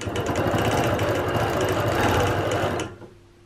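Sewing machine runs steadily while stitching a quilt along a circle ruler, a loud continuous mechanical whir that stops abruptly near the end, leaving a faint hum.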